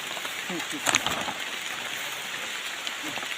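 Rain falls steadily in a forest, a soft even hiss throughout with a brief cluster of sharper drips near the start; it sounds fairly faint and continuous.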